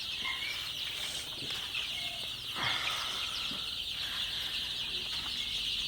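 Sonali super hybrid chicks in a chicken house, a constant high chorus of peeping with a few louder chirps and scuffles close by, no talking.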